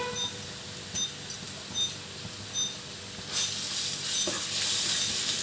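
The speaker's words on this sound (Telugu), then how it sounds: "ఆయిల్ ఇటెక్కిన తర్వాత ఉల్లిపాయలు పచ్చిమిర్చి సన్నగా కట్ చేసుకుని వేసుకోవాలి" Onions and green chilies, finely cut, frying in hot oil for an egg fry; a soft sizzle with a few light clinks, swelling into a louder, steady hiss in the last two seconds.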